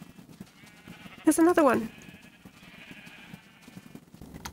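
A Minecraft sheep gives a short, clear double bleat from a game farm. A voice talks quietly before and after it.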